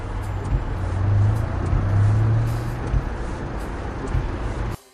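A car drives by with a loud, steady low engine rumble and road noise that swells in the middle, then cuts off abruptly just before the end.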